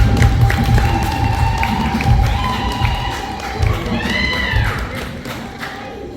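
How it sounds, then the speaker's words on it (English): A lively crowd at a church wedding in Namugongo cheers and claps, with thumps, high voices and ululating calls layered over loud, continuous crowd noise. "You clap for Mko."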